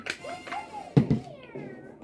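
The cat bell power-up in Super Mario 3D World gives a bright, short meow. It is followed by a couple of sharp game hits and soft chimes, all fairly clear, with no talk.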